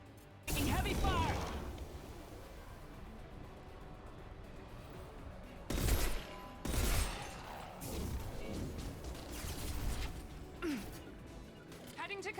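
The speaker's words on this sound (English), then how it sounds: "Taking heavy fire" Heavy gunfire in Mass Effect Legendary Edition, with sharp bursts and crashing impacts scattered through a tense firefight, loud and close, mixed with speech from characters.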